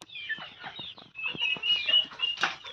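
A rooster newly brought from Jagtial to a chicken shed gives repeated harsh, clucking calls, with wing flaps mixed in, fairly close and steady throughout.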